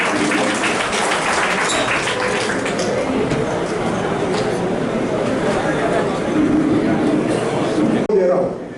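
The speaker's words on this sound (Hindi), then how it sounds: "एक बार जोरदार तालियां बजाकर स्वागत करें।" A crowd at a BJP event in Nagda honouring Emergency-era democracy fighters breaks into loud, sustained applause with chatter underneath, ending in an abrupt cut.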